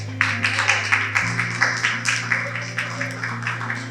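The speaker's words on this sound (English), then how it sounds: "I wish to recognize you and give you yourselves a round of applause." A small audience claps at a daycare centre's 20th anniversary ceremony, a steady, evenly spaced run of sharp claps over a low hum, fairly close and loud.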